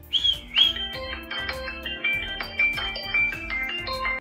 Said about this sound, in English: a simple whistle will help you get it